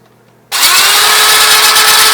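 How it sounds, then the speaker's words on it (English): An electric drill fitted with a sanding disc starts abruptly from near silence and keeps whirring at a loud, steady high pitch, very close. "The sanding disc on a drill?"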